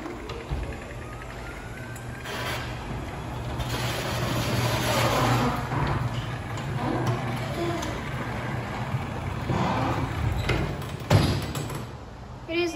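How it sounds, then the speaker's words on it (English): A LiftMaster 8500W wall-mounted garage door opener runs in a shop, a continuous motor hum with rolling and rattling of the door over about twelve seconds, fairly close, with a clunk near the end. "Go ahead and give this thing a run up with the smart control panel here."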